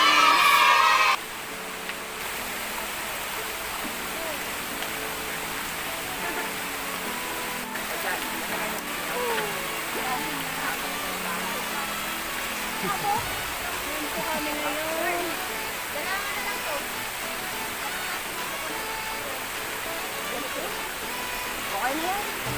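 A mountain stream near a hillside flows steadily with a constant rushing wash of water, close and continuous throughout, following a brief louder burst at the very start.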